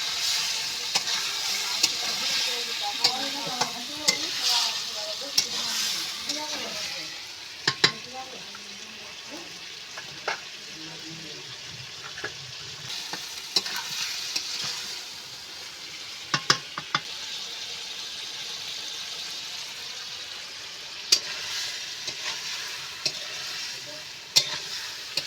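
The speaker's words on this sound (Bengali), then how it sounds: "বন্ধুরা, তরকারিটা আমার কষানো হয়ে গেছে" Fish curry with ridge gourd sizzles gently in a pan while a spoon scrapes and stirs it in irregular bursts, a steady soft frying hiss underneath with occasional louder clacks against the metal.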